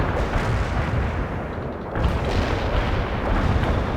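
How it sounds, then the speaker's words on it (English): A dense, continuous artillery barrage rumbles in the World in Conflict strategy game, with overlapping heavy booms and blasts rolling together loudly throughout with no let-up. "Commencing the barrage."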